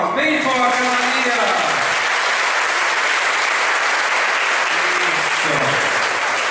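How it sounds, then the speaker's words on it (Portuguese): A parish congregation gives loud, dense applause at a church tribute to a nun, filling the space. Cheering voices and a singing or calling voice rise under it early on and again near the end. "Uma salva de palmas, bem forte, Maria!"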